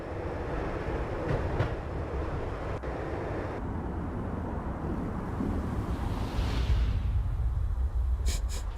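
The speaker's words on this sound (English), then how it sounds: "When the train he was riding slowed down, Got Needy made his move." A train in the Max Payne video game rumbles along the rails and gradually slows, a continuous low roll with faint clatter and brief metallic squeals, then a few sharp high clicks near the end.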